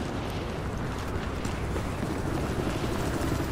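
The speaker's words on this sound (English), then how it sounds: "There's a helicopter!" A helicopter in the Battlefield Hardline video game thrums steadily and loudly, its rotor wash a continuous rumbling drone with no voices over it.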